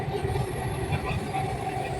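Delhi Metro train running through an underground tunnel, giving a steady, continuous low rumble and rushing roar for the whole stretch, fairly close and unbroken, with no voices.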